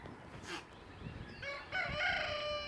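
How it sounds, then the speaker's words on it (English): A rooster crows loudly nearby on a farm, its call rising and stretching out, with a few softer chicken clucks and bird sounds before it. "Over there where the chickens still are."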